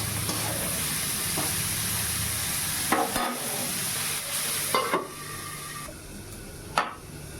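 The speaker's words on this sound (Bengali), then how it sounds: "আর ওইদিকে উচ্ছে ভাজাটা হচ্ছে, ঢেকে দিলাম, আস্তে আস্তে হোক।" Bitter gourd slices frying slowly in a covered pan give a steady low sizzle, broken by a few sharp clinks and knocks of utensils nearby; no one talks.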